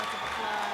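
Dense, steady applause from a commencement crowd celebrating the class of 2026, a continuous even roar of many hands clapping.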